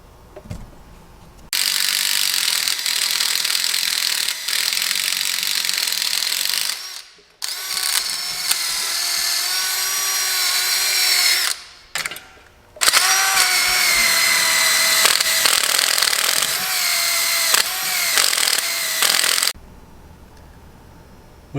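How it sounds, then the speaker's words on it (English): Angle grinder grinding steel to bare shiny metal on an E36 front knuckle ahead of welding a dual brake caliper bracket, loud and steady with a near high-pitched whine, running in long bursts that are cut by a few short pauses. "Now we've got to do some serious grinding, make this clear, shiny metal so we can weld to it."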